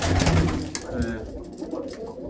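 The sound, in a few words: pigeons cooing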